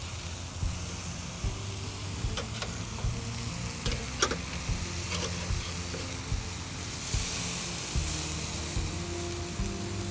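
A marinated ribeye steak sears in a hot pan with a steady, close sizzle throughout, broken by a few faint crackles and spits, with a low hum underneath.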